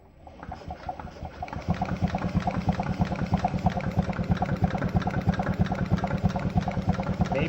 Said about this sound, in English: I can hear the injectors firing.